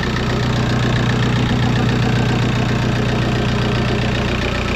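A van engine idles steadily right after being started for the first time, running on its fuel tank. The loud, close rumble holds an even, slightly knocking low churn throughout, with no voices.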